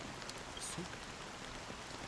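A steady wash of drizzling rain in the video game Honkai Star Rail, a continuous soft hiss with faint tones in the background.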